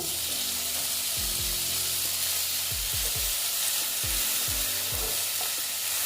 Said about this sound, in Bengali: রসুনটাও আমি গ্রেট করে দিয়েছি তোমরা বেটে দিতে পারো তারপরে দিয়ে দিচ্ছি টমেটো কুচি